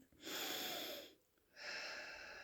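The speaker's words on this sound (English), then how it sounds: "Slowly in through the nose and out through the mouth" Slow breathing during a guided relaxation: a long, airy inhale through the nose, a brief pause, then a soft exhale through the mouth, close and quiet with no talking.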